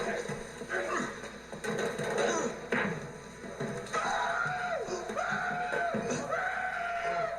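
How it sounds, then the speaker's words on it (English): A man's Mankind-style scream in a wrestling movie, a long, strained, wavering yell over a busy film soundtrack, loud and continuous throughout. "He's doing the mankind scream."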